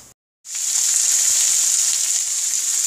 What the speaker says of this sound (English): I'm going to fry this in canola oil until